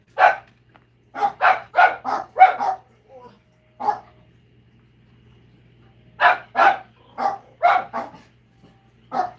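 A pet dog barking indoors, two clusters of sharp repeated barks separated by a short lone bark and a stretch of quiet, close and loud with no one talking.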